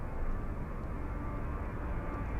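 An Emirates Airbus A350 departing Zurich airport, its jet engines making a steady broadband roar at moderate level, continuous throughout with no voices.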